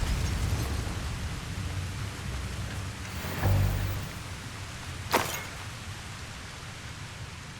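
An Incendio fire spell erupts in Hogwarts Legacy with a loud whooshing burst partway through, followed shortly by a second sharp crackling blast, all over a constant rushing game ambience.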